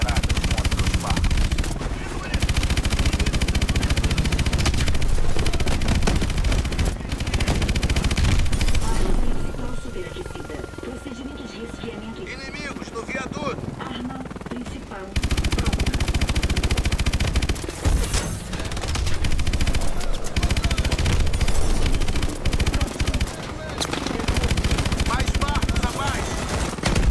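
Heavy video-game gunfire aimed at incoming attack boats in Call of Duty: Advanced Warfare, loud and sustained bursts with a quieter lull midway before the shooting resumes, and voices talking over it.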